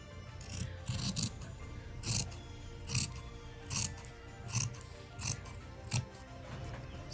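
Scissors cut a piece of fabric in half for a patchwork gift bag, with a steady run of about eight crisp snips at an even pace, close and fairly quiet, with no talking.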